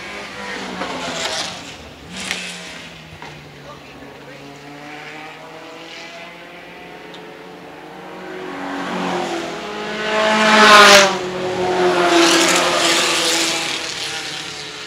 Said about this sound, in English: just compare the sound of the two Lotus 7s that are running second and third